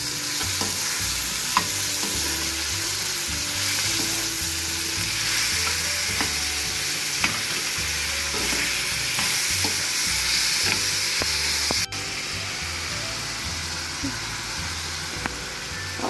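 Browned onions with freshly added chopped tomatoes sizzle in a pan, a dense, steady frying crackle broken by repeated stirring scrapes and occasional louder pops. It carries on throughout without talk.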